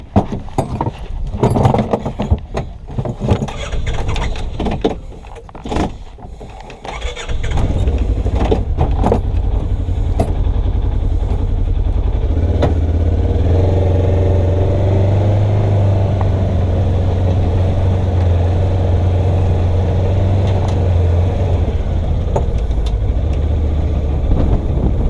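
A Gator utility vehicle starts after some jangling and handling noises, then its engine drones steadily and close as it drives along.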